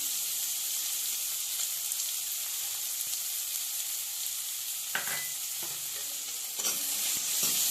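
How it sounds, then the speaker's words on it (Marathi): Onion sizzles steadily in a pan over high heat, added after cumin and mustard seeds have fried, with a continuous loud hiss and a few spatula scrapes and taps. "हा कांदा आपल्याला फ्राय करून घ्यायचा आहे फास्ट गॅसवरती"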